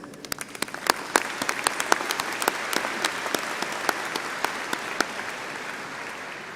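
A commencement ceremony audience applauds steadily, a dense wash of many hands clapping with sharp individual claps standing out, continuing without a break and with no voices on top.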